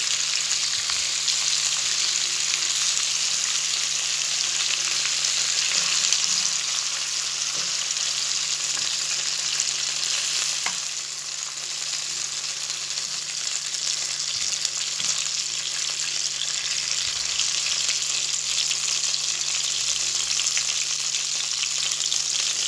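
Chicken pieces frying in a pan of butter and oil make a dense, even, close sizzle that holds steady for over twenty seconds and dips slightly midway, with no speech.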